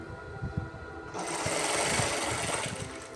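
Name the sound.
sewing machine stitching a fall onto a saree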